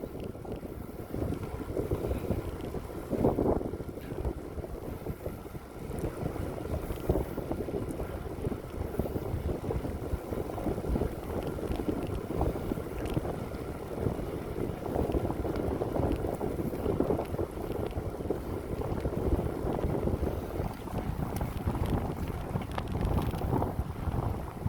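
Strong wind roars steadily against the microphone while cycling along a riverside bike path in Korea, a dense continuous rumble with gusty swells throughout and no talk.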